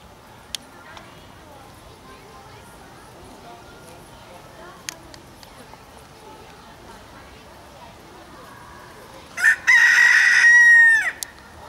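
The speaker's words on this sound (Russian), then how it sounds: "Курочки ходят." A rooster crows loudly at a zoo, one long strong call near the end, after a quiet stretch with faint scattered clucks and small knocks in the pen.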